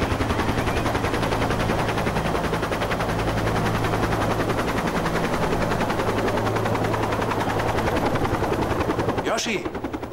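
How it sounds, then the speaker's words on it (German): A SAR rescue helicopter flies overhead during a police operation, its rotor thudding loud and steady throughout before easing off at the very end. "Was macht denn der SAR-Hubschrauber hier?"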